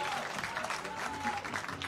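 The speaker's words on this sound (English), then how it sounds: "Lots of applause from top to bottom for the Czech Republic." A crowd at a U-18 men's softball World Cup game applauds the Czech Republic team, a faint, steady wash of clapping heard from a distance.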